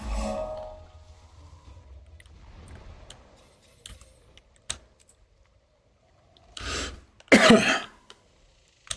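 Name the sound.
coughing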